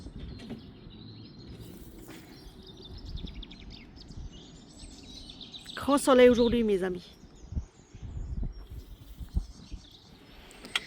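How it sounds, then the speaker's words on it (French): Birds chirp faintly outdoors on a sunny day near a chicken coop, their thin calls scattered under a person speaking French up close. "Entendez-moi les chants de ces oiseaux"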